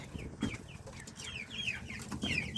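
Small chickens cluck and cheep in quick, scattered bursts close by, with soft rustling in between.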